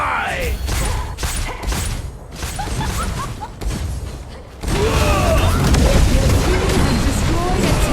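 Tower being destroyed with explosions in the mobile battle arena game ROV: heavy rumbling booms and crashing effects, with a denser, louder blast of debris-like noise surging in partway through and holding steady to the end.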